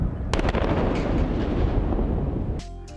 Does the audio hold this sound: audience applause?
no